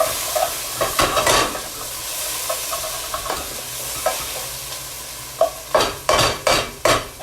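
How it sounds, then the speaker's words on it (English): Browned short rib with vegetables and tomato paste sizzles in a pan as a splash of liquid deglazes it, with a steady hiss under repeated bursts of spoon scraping and stirring that grow louder near the end. "I'm going to do another little deglaze just to kind of even out my color in there"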